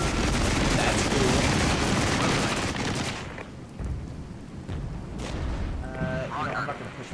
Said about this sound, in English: Yes, I like that artillery.